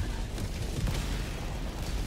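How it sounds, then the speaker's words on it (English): Loud, rumbling blast in Helldivers 2, a broad low boom with crackling debris that fills the whole two seconds of chaotic combat noise, no clear speech over it. "I died to a different explosion"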